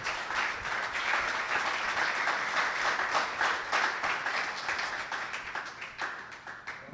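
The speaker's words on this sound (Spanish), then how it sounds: "Denle un aplauso a él." A church congregation applauds in a dense, even wash of clapping that stays steady and moderately distant for several seconds.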